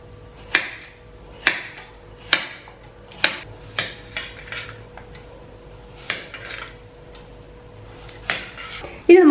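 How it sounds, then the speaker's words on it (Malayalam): A knife chops ripe plantains into small pieces on a cutting board, giving about ten sharp, close knocks at a steady, unhurried pace with quiet gaps between them. "അപ്പൊ ഇനി നമുക്കിതിനെ ചെറിയ പീസുകളാക്കണം."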